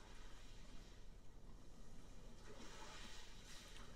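Steady broadband wash of calm sea waves played as an ambient soundscape through the sound system of a 2021 Kia Telluride Nightfall Edition, a soft continuous surf with gentle swells and no voices.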